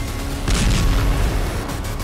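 Loud, dense rumbling roar from an Iranian missile strike explosion, a sustained low boom swelling around the middle and lingering to the end, heard alone with no voices.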